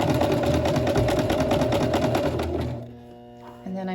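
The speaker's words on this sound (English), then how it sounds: "I'm going to put my needle down as close to the edge as I can, come down a few stitches, and then back stitch" Sewing machine stitching a skirt, a rapid close rhythmic hum for over two seconds that winds down and stops, followed by a brief quiet mechanical shift.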